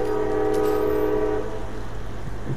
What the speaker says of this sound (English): Of course the train.